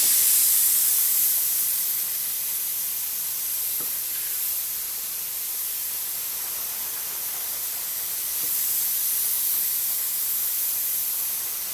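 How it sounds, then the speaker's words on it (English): A Grex Tritium TG3 airbrush with a 0.3 mm nozzle, running on an Iwata hose, sprays a continuous loud, even hiss of air that eases slightly after the first seconds and swells again near the end. "Let's see how it sprays."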